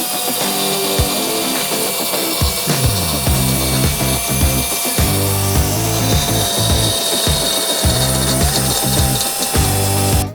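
Steel tubing is worked on a belt sander during a car build, producing a loud, continuous abrasive grinding with a steady motor drone and rhythmic scraping pulses as the tube is pressed and moved against the belt.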